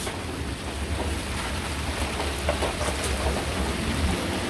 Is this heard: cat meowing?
no